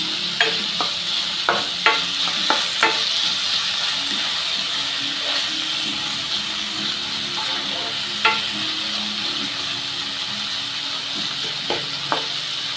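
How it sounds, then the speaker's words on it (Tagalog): Chili cooking in a pan before sardines go in for a quick rainy-day meal: steady, close sizzling hiss runs throughout, punctuated by several sharp utensil scrapes and taps as the food is stirred. "Tapos yung chili. Lutuin natin ng kaunti."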